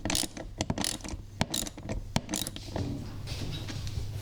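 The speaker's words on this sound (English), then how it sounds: "I'm just installing the lower bolts for the roof supports." A ratchet clicks in quick rapid runs, close and distinct, as it tightens the lower bolts on golf cart roof supports during a rear seat install, with brief pauses between strokes.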